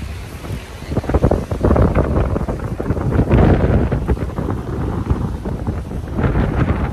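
Strong coastal wind buffets the microphone in heavy gusts, with a steady roar of waves and surf underneath, continuous throughout, at Dingalan, Aurora, Philippines.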